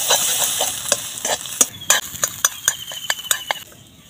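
Egg being beaten and scrambled in a pan while cooking chowmein: a string of sharp, irregular scraping clicks and taps over a faint background hiss, close and fairly loud.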